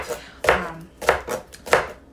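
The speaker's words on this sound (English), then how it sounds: "I'm actually going to cut up the green onion first." Several crisp knife chops through green onion against a cutting board, spaced about half a second apart, close and fairly loud.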